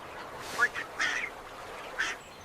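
A duck quacks in a quiet town, giving three short, separate calls over faint background hush, fairly close.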